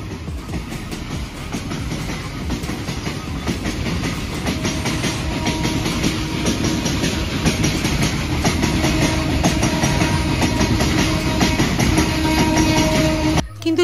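Two trains roll past side by side at a closed railway level crossing, a loud continuous rumble with rhythmic clickety-clack of wheels on rails, heard close throughout.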